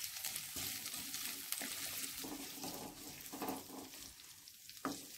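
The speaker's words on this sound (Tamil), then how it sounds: "அது கூட நறுக்கி வச்ச வெங்காயத்தையும் 3 பச்சை மிளகாய் நல்லா வதக்கி வச்சுக்கோங்க" Chopped onions and three green chillies sautéing in a pan for cabbage kootu give off a steady, fairly quiet sizzle with a few stirring scrapes and clinks, and no one speaks.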